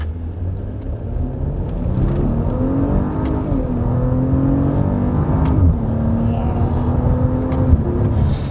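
An SUV engine pulls up from low revs, its steady, loud rumble climbing gradually in pitch through a sustained, unhurried acceleration heard from inside the cabin.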